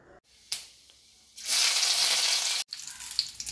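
Black mustard seeds, chopped onion, whole dried chillies and curry leaves dropped into hot oil for a South Indian tempering, bursting into a loud, steady sizzle after a brief clatter, then crackling on after a short pause.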